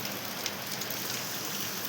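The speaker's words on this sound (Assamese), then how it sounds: "বাহিৰৰ পৰা এতিয়া বৰ্তমান অলপ অলপ বৰষুণ দি আছে" Light rain falls steadily outdoors near an ashram guesthouse on a Kedarnath pilgrimage route, a soft, even hiss that fills the whole stretch with no voices over it.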